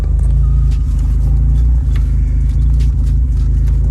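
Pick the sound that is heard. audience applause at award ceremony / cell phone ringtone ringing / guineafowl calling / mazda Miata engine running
mazda Miata engine running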